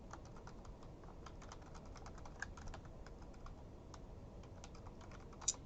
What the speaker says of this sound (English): you can just start typing your sentences